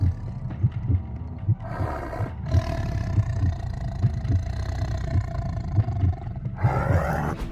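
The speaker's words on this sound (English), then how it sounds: "Enzo and Diego, two tigers inside this enclosure, are having a good day" Tigers in a zoo enclosure at feeding time, one letting out a huge, deep roar, heard up close with repeated low rumbling pulses and a louder burst near the end over steady background noise.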